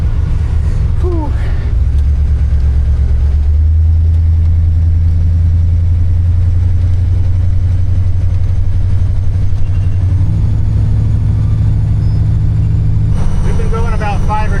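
A car engine runs steadily while driving down a road in rural Georgia after a breakdown, a loud, constant low rumble that shifts pitch a few times as speed changes, with brief talk over it.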